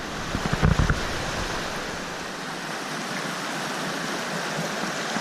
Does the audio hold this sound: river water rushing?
yes